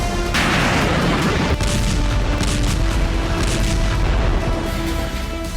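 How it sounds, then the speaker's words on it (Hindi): Aerial bombardment in Gaza: loud, continuous booming blasts and rumbling explosions overlap throughout, with a heavy initial burst and dense crackling debris, no voices. "आसमान से होती ये बमबारी गाजा के कोने कोने को तबाह किए बिना नहीं थमेगी।"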